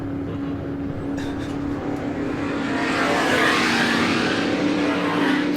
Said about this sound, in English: There's the Marina Rolls-Royce, built by Brian Mann, alongside a kind of Cooper Monaco-esque lines with a V8 Rolls-Royce engine in the back